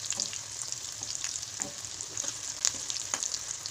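Food frying in hot oil in a home kitchen while cooking an egg dish, with steady crackling sizzle and sharp spitting pops, close up and continuous without talk.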